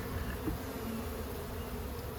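A steady, dense hum of honey bees fills the space during a swarm cutout from a house, a continuous close buzz of many insects holding even loudness throughout with no voices.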